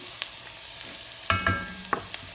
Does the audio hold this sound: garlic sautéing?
yes